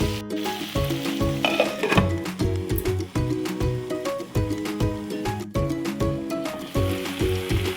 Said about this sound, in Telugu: ఇలా మధ్య మధ్యలో కలుపుతూ ఉండాలి ఫ్రెండ్స్, లేకపోతే కింద మాడిపోతుంది కర్రీ.